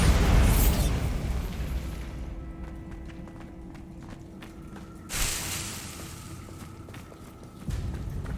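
A Bombarda spell in Hogwarts Legacy on PS5 goes off as a loud, deep boom that decays into rumbling, followed by quieter ambience and a second, smaller burst near the end.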